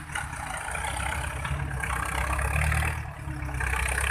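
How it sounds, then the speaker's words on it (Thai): Small walking tractor engine running in a rice field, a steady low chugging drone heard from some distance with a slight rise and fall in loudness. "ขนาดเสียงรถไถกบนี่เสียงรถไถยังลั่นมาถึงนี่เลย"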